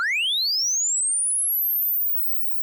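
Single pure test tone sweeping upward from low to very high pitch over about two seconds, processed through a FabFilter plugin with high-quality oversampling in Reaper, clean with faint upper harmonics, then silence.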